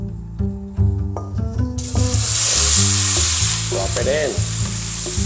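Okra hits hot oil in a pan over a high flame and breaks into a loud, steady sizzle with stirring scrapes, after a few brief words at the start.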